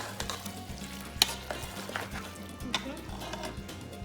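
Shrimp sizzle in a frying pan while a utensil stirs and scrapes through them, giving a steady fry hiss with irregular clinks and one sharp tap, close by and fairly quiet, with no talking.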